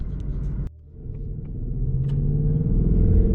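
Ford Mustang engine rumbling as the car pulls away in cold weather, a brief dip then a steady low drone that grows louder and fuller toward the end, no talking.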